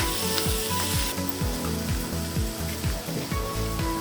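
Chopped tomato fries in a pan for egg macaroni, giving a loud, continuous sizzle with rapid repeated scraping strokes of a spatula mashing and stirring.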